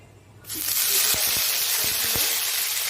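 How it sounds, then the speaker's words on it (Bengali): Black cumin and dried red chillies hit hot oil, bursting into a loud, steady sizzle after a short quiet start, with a few sharp crackles and pops scattered through it. "এরপর আমি কালো জিরে আর শুকনো লঙ্কা তেলে দিয়ে দিলাম"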